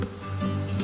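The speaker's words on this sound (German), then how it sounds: "während die ersten jetzt so vor sich hin brutzeln" Churros frying in hot oil make a steady, soft sizzle with a fine crackling hiss throughout, close and alone, with one brief bright pop near the end.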